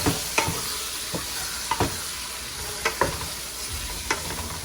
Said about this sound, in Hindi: कलेजी डाल के तकरीबन 5 से 10 मिनट के लिए भूनूंगी